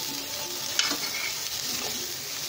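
Chicken and potato samosa filling frying in a pan, a steady broadband sizzle with a few stirring scrapes and one sharp clink near the start, no voices.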